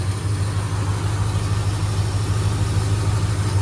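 A 1978 Ford F100 truck with a customized exhaust idles steadily nearby, a continuous low, even engine rumble with no talk over it.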